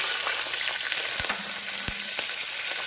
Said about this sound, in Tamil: அடுத்தது பச்சை மிளகாய், கருவேப்பிலை,